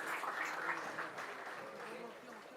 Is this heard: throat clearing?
no